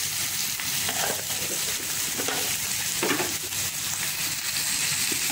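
Onion and tomato masala sizzles steadily in a pan while a spoon stirs it, scraping in irregular strokes over the constant frying hiss, close up and without talk.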